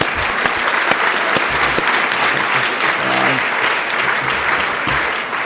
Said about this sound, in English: I'm happy to give another round of applause.